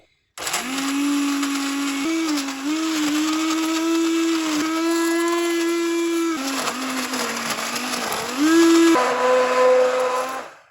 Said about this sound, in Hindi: इसको इतना मशीन को चलाना है कि ये चीज़ें सारी ये देखें कि बीच में मैश हो जाएं, छिलके भी और माल्टे भी।